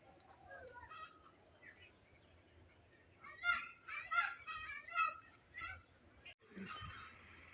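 Chickens near a roadside garden with bean plants, clucking and squawking in a cluster of calls at moderate distance over quiet outdoor ambience.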